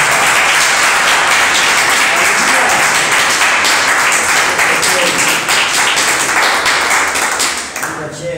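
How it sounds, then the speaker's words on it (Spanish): A church congregation claps steadily and loudly for several seconds, a dense wash of applause that fades slightly at the end. "Vamos a dar un aplauso a Dios."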